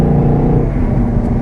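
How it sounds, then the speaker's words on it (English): A 2012 Ford Boss 302 V8 with a six-speed and resonator-delete exhaust gives a loud, steady deep engine drone, heard close up and alone. "I can't get over how well this car sounds. It sounds really badass with the resonator deletes."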